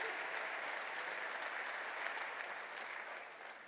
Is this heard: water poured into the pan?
no